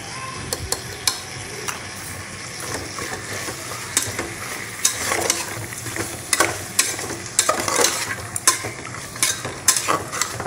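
Spices, salt and fried paneer frying in a pan while a spoon stirs them, a loud steady sizzle with repeated sharp scrapes and clinks of the spoon against the pan.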